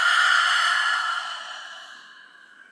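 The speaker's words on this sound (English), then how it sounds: "let's all take a deep breath in and a long, slow breath out" One slow, long breath out, soft and close, fading gradually into quiet during a guided meditation.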